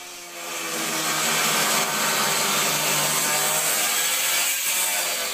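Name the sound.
grinders cutting a hole in a steel shipping container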